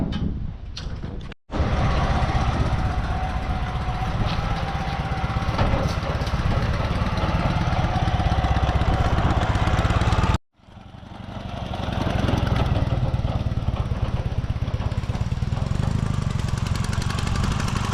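A homemade tricycle powered by an MT 10 engine runs loudly and steadily close by in a garage. It gives a continuous rough mechanical drone, broken by two brief abrupt dropouts.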